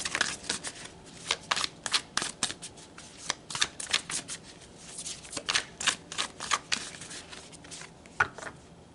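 Tarot cards are shuffled and pulled by hand in a quick series of crisp riffling and slapping bursts, close and fairly quiet, with no talking.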